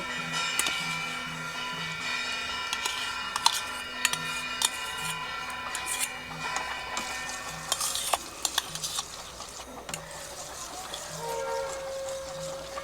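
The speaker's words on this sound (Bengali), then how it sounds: "খুব ভালোভাবে দুধের সাথে মিশিয়ে নেব।" Stirring sour curd (yogurt) into milk for mishti doi, a steady scraping and swishing of a spoon against the pot with small clinks, close by and unbroken, no talking.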